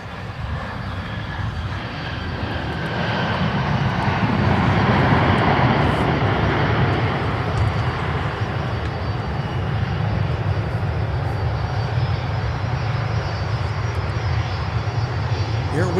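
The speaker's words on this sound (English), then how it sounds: "runway 17, clear for takeoff." A United airliner takes off from runway 17 at Minneapolis–St. Paul Airport, a loud, steady engine roar that holds throughout and swells slightly early on, with radio voices faintly underneath.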